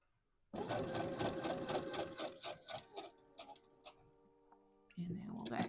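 A sewing machine stitches a dress from McCall's M8141 pattern in rapid, steady bursts, slowing and pausing briefly to back up a couple of stitches, then resuming fast stitching close by.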